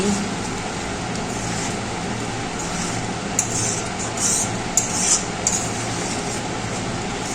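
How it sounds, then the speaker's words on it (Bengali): Masoor dal with chopped coriander being stirred in a pot: a few soft, scattered utensil clinks over a steady background hum, close but quiet. "একটু নেড়ে চেড়ে নিচ্ছি"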